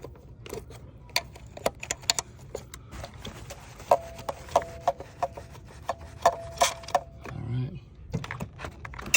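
A wrench loosens the fuel pump flange on a BMW B58 engine with a close run of ratcheting clicks, scrapes and metallic taps, broken by short pauses and a few louder knocks.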